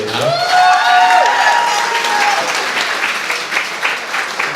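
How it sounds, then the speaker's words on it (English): Wedding guests applaud Julie during a best man's toast, a dense burst of clapping with some cheering mixed in. Voices can be heard over the start of the clapping. "let's give another round of applause for Julie"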